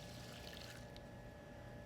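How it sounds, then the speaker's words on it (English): Cold water being poured into a pan holding pre-measured rice, a steady broadband splashing stream that runs alone throughout, close and moderately loud. "into that, I'm going to add 2 cups of water"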